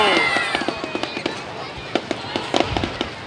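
Fireworks going off at a New Year Tet celebration in 2019 at a national tourist area, a string of sharp pops and crackling bursts at varying distances over a fading hiss, with voices faintly in the background.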